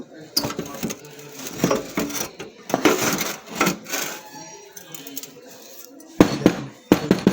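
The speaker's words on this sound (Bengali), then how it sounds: "আমরা প্রথমে বার্নারটা খুলে নেব" Metal parts of a gas stove clatter and clink as the burner is taken off for repair, a series of irregular close knocks and scrapes mixed with speech.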